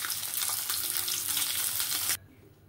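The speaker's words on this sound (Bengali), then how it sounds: "আমাকে ডিমটা একটু হালকা করে ভেজে সর্ষের তেলে আমি তুলে নেব" Boiled eggs frying in mustard oil with salt, turmeric and dried chilli, a dense bright sizzle close up with faint stirring that cuts off abruptly near the end, no voices.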